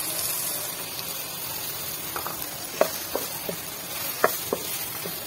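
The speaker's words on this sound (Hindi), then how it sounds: "इसे ज्यादा मैं फ्राई नहीं करूंगी, हल्का सा फ्राई करूंगी।" Garlic paste and onions frying lightly in oil, a steady soft sizzle with a few small clicks of stirring, close and fairly quiet, no talking.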